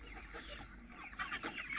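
Meat chickens clucking and squawking in a crowded batch while being loaded at a poultry farm in Mandya, a busy continuous flock noise at moderate distance.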